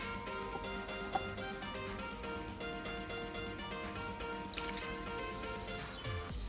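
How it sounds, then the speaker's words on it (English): Room temperature water being poured into a bowl, a soft continuous liquid trickle and dripping at low level over a steady background hum, with no voices. "30 milliliters of room temperature water in a bowl"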